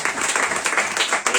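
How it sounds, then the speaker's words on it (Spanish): Audience applause at a literary talk with author Juan Pablo Villalobos, a dense burst of clapping filling the short moment at steady loudness. "Aplausos, corazón."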